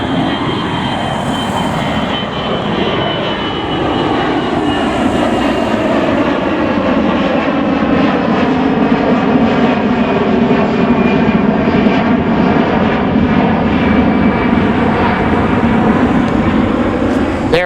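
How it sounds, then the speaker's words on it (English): An airplane taking off near Los Angeles airport, its engine roar loud and continuous with a slowly shifting drone that stays strong throughout the climb. "Here's a plane taking off."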